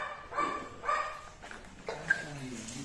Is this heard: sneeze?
no